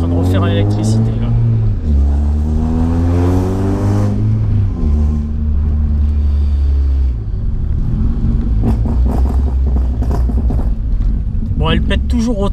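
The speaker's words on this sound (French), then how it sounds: "Bah, elle pète toujours autant en fait." A Honda race car idles with a deep uneven engine rumble that rises and falls with revs. Irregular exhaust pops and crackles break through, while people talk over it throughout.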